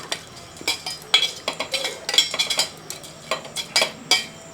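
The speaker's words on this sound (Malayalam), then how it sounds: "സ്പൂണ് കൊണ്ടൊന്ന് ഇളക്കിയിട്ട്" A spoon stirs ground bitter gourd powder in a dish, giving a quick run of light metallic clinks and scrapes, irregular and close, with no one talking.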